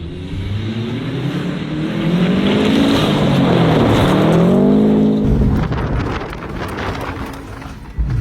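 A Corvette fitted with saw blade wheels revs loud and close on a frozen lake, the engine climbing and wavering as the blades spin and scrape on the ice, then dropping away and settling before a sharp knock at the end.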